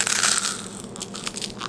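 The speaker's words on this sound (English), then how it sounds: "This is about to be the realest crunch of all time." Teeth bite into a crispy baked Parmesan cheese snack, giving a loud, close crunch followed by a series of smaller crackling chews.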